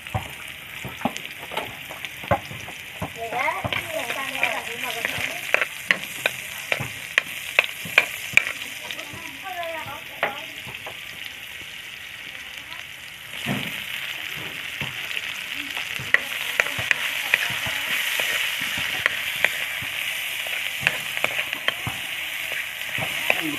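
Onion frying in a hot kawali, with a steady bright sizzle and frequent crackling pops and spatula stirs scattered throughout, fairly close.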